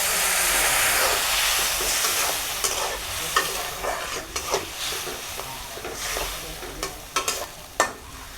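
Chilies and onions frying in a pan, a steady close sizzle and hiss with occasional stirring clicks of a utensil, no voices.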